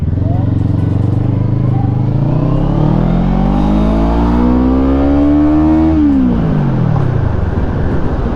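A Bristol Bobber 650 motorcycle accelerates hard, its loud engine climbing steadily in pitch through a long rising rev before dropping sharply at a gear change and building again, heard up close from the rider's position.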